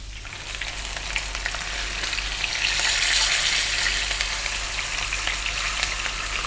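Lamb shanks sear in a hot pan over medium heat, giving a steady, close sizzle and frying crackle that swells a little midway and holds throughout without any talking.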